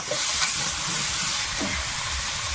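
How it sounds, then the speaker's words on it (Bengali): Potato pieces frying in a pan with garlic, ginger and green chili, a dense continuous sizzle and hiss close up, with brief stirring scrapes breaking through. "আলুটা ভালো করে লাল লাল করে ভেজে নিয়েছি"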